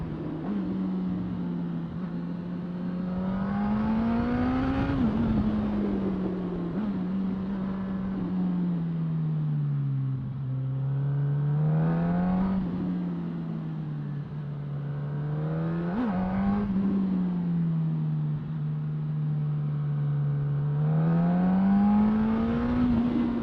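Suzuki GSX-S1000F motorcycle engine revving and pulling hard in first gear on a mountain road at night, a loud continuous drone rising and falling in pitch through repeated acceleration surges.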